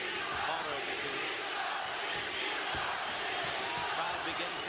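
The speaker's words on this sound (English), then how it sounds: "Crowd begins to set up a chant." Boxing crowd at the Humberto Gonzalez vs Michael Carbajal fight, a dense, steady roar of many voices heard from a distance, beginning to build toward a chant without any clear rhythm yet emerging.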